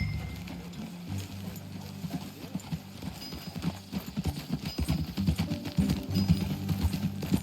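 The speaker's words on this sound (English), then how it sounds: "That a new horse?" Horse hooves clip-clop steadily in Red Dead Redemption 2, the rhythmic hoofbeats close and prominent over a low ambient bed that grows busier toward the end.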